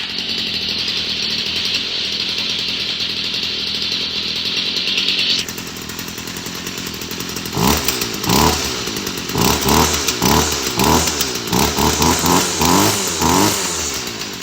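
A Stihl FS38 two-stroke string trimmer runs with a steady buzzing whine, then drops to a rough idle and revs in a series of repeated sharp bursts, close and loud.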